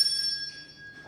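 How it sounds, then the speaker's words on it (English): A single ring of a school bell, used as a debate timekeeper's signal, sounds once and hangs in a clear, steady tone that slowly fades. "The timekeeper gives a signal of the school bell 1 minute before the expiration of the speaker's allotted time."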